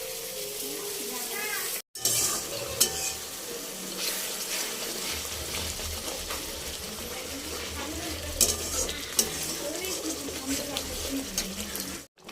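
Potato curry is sautéed and stirred in a pan, with a continuous close sizzle and wet scraping, a brief cut near the start and occasional sharper clinks of the utensil.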